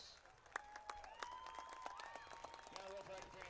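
Crowd at a high school football game applauding and cheering for the graduating seniors, heard as scattered claps and a distant roar, with a voice over a public address system talking throughout.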